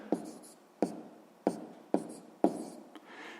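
A pen taps and scratches across paper while a math solution is written down, five or six distinct sharp strokes at a steady rhythm, close and fairly quiet.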